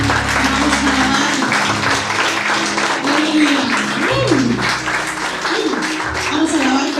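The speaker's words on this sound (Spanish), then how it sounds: "Den un fuerte aplauso al Rey" A church congregation claps for the King during a worship service, broadband applause running under voices and tonal sounds, fairly loud throughout.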